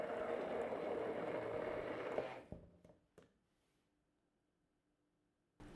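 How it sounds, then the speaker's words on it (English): A stick blender runs steadily for about two seconds, emulsifying a hot mixture poured over white chocolate and coconut paste for a matcha-coconut bûche entremet, then cuts off into near silence with a brief knock at the very end. "and emulsify with a stick blender."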